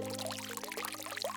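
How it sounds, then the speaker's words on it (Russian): Clean warm water poured and splashed while rinsing a rescued kitten's fur, a close, continuous trickling and gurgling with no voices. "Аккуратно ополоснула шерсть чистой теплой водой"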